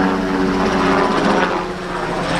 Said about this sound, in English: there's a helicopter going overhead now